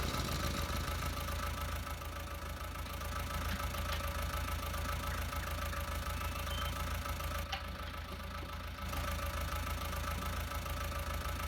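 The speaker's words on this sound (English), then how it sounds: "turn its engine on" A vehicle engine idles in Farming Simulator 19, a steady, unbroken low hum and rumble that holds at an even level throughout, with no voices over it.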